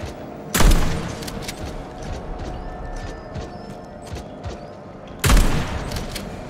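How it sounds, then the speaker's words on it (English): Shotgun blasts in the video game Atomic Heart: two loud, sharp booms several seconds apart, the first near the start and the second near the end, separated by quieter mechanical noise in the background. "I don't know why it was only one shot in the shotgun."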